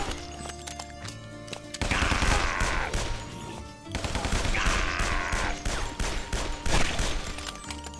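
Gunfire in the Italian-themed shooter game Guns, Gore & Cannoli: two loud bursts of rapid shots, with the first volley starting around two seconds in, a brief lull, then another sustained stretch of firing over game music.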